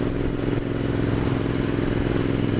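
A Royal Enfield Interceptor 650 motorcycle being ridden gives a loud, steady, close engine drone with a rough throbbing tone that holds throughout, with no talking.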